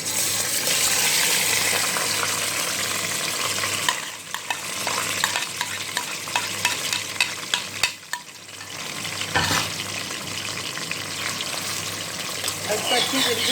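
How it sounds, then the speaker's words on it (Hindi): Beef chunks frying in hot oil in a pan for street-style biryani, a steady close sizzle with scraping stirs, pausing briefly twice, while a person talks over it. "इसको फ्राई करेंगे जब तक कि इसका कलर चेंज नहीं हो जाता"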